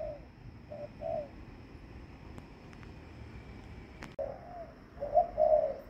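A dove coos in soft, low phrases, a few short coos early and a longer series near the end, over faint background hiss.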